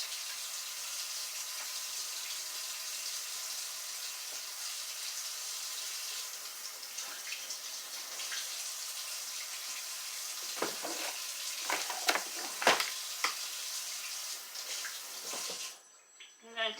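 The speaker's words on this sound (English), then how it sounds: "Give it a good rinse." Kitchen tap water runs steadily in a continuous hiss while food is rinsed under it, with clattering handling sounds and brief splashes toward the end.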